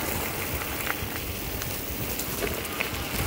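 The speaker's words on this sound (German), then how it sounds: "Und es regnet." Rain falls in the Schwalenberg forest on a hilltop, a steady close hiss of drops pattering on leaves and surfaces, with no voices.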